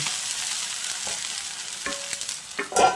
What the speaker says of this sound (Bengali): উল্টে নিয়ে তারপর আবারও অপর সাইডটাকেও